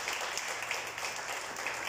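A church congregation at a Spanish-language service applauds, a steady wash of many hands clapping at moderate distance that holds evenly through the moment.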